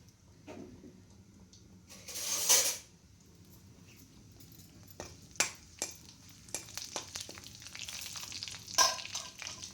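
Mustard seeds, cumin and shallots hitting hot oil for okra pulusu, a sharp burst of sizzle followed by quieter frying with scattered crackles and pops close by.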